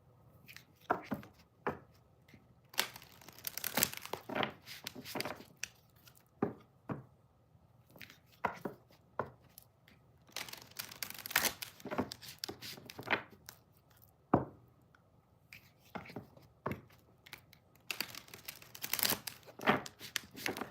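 Intermittent bursts of tarot cards being shuffled and riffled close by, soft and papery, repeating in irregular clusters with quiet gaps between.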